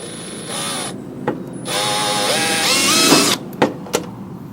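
A power drill whines as it bores into a two-stage Husqvarna ST224 snow blower impeller, in two sustained runs with rising pitch, separated by short pauses and sharp clicks, close and loud.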